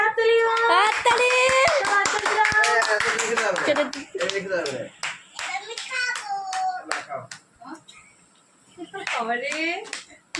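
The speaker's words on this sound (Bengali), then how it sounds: "হাততালি।" A family claps at an 18th wedding anniversary celebration, with sharp, uneven hand claps close by, mixed with children's and adults' voices, then thinning into scattered claps.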